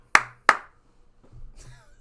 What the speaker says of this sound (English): If you're here and you know it, clap your hands.